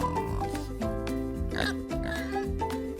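A pig grunts and oinks repeatedly up close over a steady background of music-like tones.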